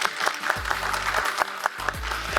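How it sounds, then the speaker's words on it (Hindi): Audience at a cooking class event in Islamabad clapping for a culinary school, brief scattered applause with uneven claps and low voices beneath. "सो कॉथम के लिए सबसे पहले तालियां होनी चाहिए"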